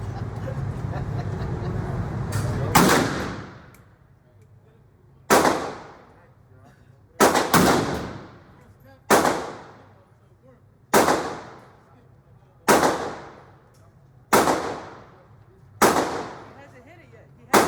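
Sharp, loud pistol and rifle gunshots at an outdoor shooting range, including a Desert Eagle, Draco, AR-15 and Glocks, fire singly at a steady pace of roughly one every one to two seconds, each ringing out briefly, with people talking at first.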